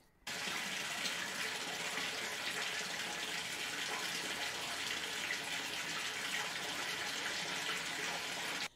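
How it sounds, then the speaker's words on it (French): Cherry tomatoes are rinsed under a running tap, giving a steady, even gush of water that starts suddenly and holds at a constant level for several seconds. "je vais rincer mes tomates"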